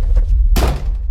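A door lock is forced open in a film scene, a loud thumping burst of impact and rattle arriving midway, alone over a low rumbling background.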